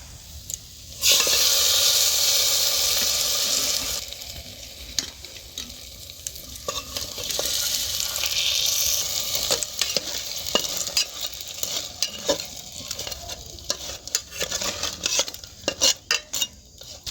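Moong puli pitha frying in hot oil: a loud, steady sizzle close by, with scraping and clinking of a metal spatula against the pan and occasional stirring, no voices.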